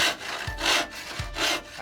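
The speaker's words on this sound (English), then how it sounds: "busy sawing away at a piece of reclaimed marine ply" Hand saw cutting reclaimed marine plywood aboard a narrowboat, with three steady rasping strokes in a regular back-and-forth rhythm, close and fairly loud.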